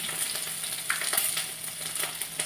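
Green chilies, ginger and curry leaves sizzling in hot oil for upma, a bright crackling hiss close up with a few light stirring clicks.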